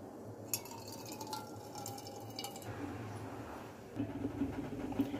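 Water squeezed from salted bitter gourd drips and trickles in a few quick spatters, followed by a wet squelching as the gourd is squeezed, close and fairly quiet.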